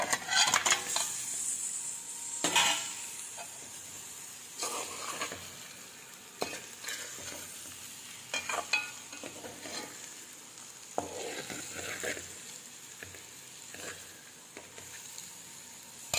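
Eggs cook in a pan of chili-spiced curry, giving a soft continuous sizzle broken by scattered clinks and scrapes of a stirring utensil against the pan, with no talking.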